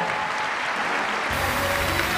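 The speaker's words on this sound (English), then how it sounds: "And King Jim, one more big round of applause." Sustained audience applause at a sales seminar honoring sales directors, a dense steady clatter of many hands filling the room, loud and continuous throughout.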